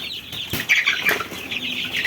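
Tiger chickens nearby, with a burst of wing flapping and soft clucks over a busy background.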